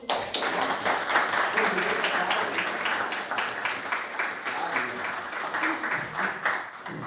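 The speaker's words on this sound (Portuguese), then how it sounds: "Era ele que nós tínhamos combinado que ia puxar as palmas" An audience applauds after an academic talk on teacher training and the inclusion of students with disabilities, a steady, fairly loud wash of clapping that lasts throughout with faint voices mixed in.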